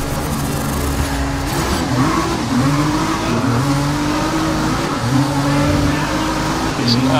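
Several race car engines in Grid 2019 drone and rev together on a wet track at the race start, a steady loud roar with rising and falling engine pitch and occasional tire noise throughout.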